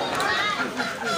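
Live chickens cluck and squawk at a busy poultry market in Dimapur, India, with the birds' calls overlapping amid a busy background murmur.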